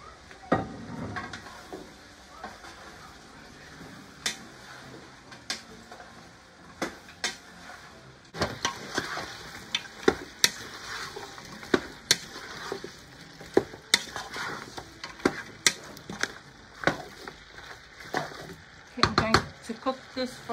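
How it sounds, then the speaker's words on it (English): Chinese cabbage and lamb stir-frying in a pan, with a steady low sizzle broken by irregular sharp scrapes and clacks of a utensil stirring against the metal, close and fairly quiet. "right now I'm going to add in the white part of the cabbage"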